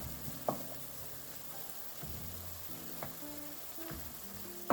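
Minced garlic frying and being stirred with meat in a pot for homemade low-carb chili, a quiet continuous sizzle with occasional utensil scrapes and a sharp clack at the end.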